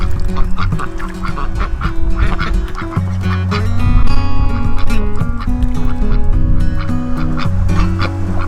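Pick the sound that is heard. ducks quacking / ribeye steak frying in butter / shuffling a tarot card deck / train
ducks quacking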